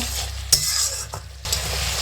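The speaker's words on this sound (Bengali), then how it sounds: "একটু কষে নেব।" Ground spice masala with garam masala sautéing in a pan for a rui fish curry, a continuous close sizzle broken by a couple of sharp utensil scrapes and clinks, no one speaking.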